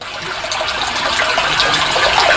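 Stream water rushes nearby in a steady, loud, continuous hiss and gurgle, with no voices over it.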